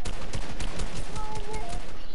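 Bursts of automatic gunfire in a shooting video game, rapid overlapping shots crackling continuously at close range, with background chatter mixed in.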